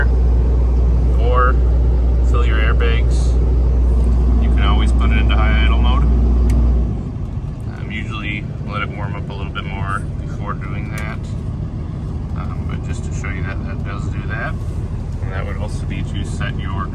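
A 2023 Renegade Valencia 38RW RV engine running in high idle mode drones loudly and steadily, then drops off sharply partway through. Someone talks over the drone and keeps talking after it fades.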